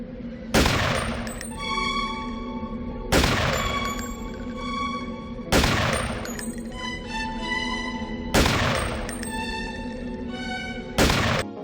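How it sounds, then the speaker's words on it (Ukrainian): Five sharp sniper rifle shots in the video game Deus Ex, spaced a few seconds apart, each a loud crack followed by a ringing metallic echo and tail. "Тому снайперка наше все. Один постріл, один труп."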